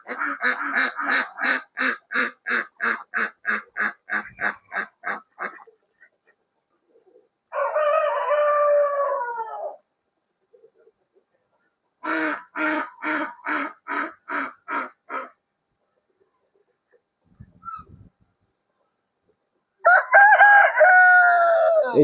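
Vanaraja roosters crow loudly and nearby at a farm science centre, with long bursts of rapid, repeated calls separated by pauses. Other fowl chatter between the crows, and a final crow comes at the end.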